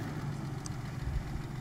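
A Lada Niva 4x4 engine idles steadily on sand after digging in on aggressive tyres, a continuous low rumble held close and even throughout.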